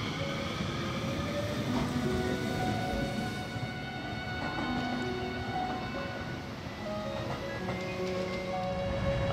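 A train on the Hokuriku line pulls away from Awara-Onsen station in Fukui, giving a quiet, steady rolling rumble with faint whining tones shifting in pitch over it.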